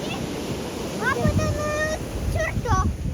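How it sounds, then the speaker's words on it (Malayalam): Heavy sea waves surge onto a beach in the rain, a steady broad roar of surf and wind noise throughout, with voices talking over it. "നല്ല ഹെവി തിരമാലയൊക്കെ ആയിട്ടാണ്"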